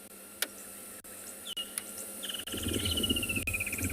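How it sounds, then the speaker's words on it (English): Birds call across South African bush, with a thin whistle sliding downward and a drawn-out descending trill, set against a steady insect hiss and a few faint clicks. "You'll be able to hear some gray-headed sparrows,"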